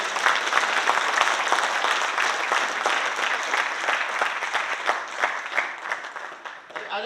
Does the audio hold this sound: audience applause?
yes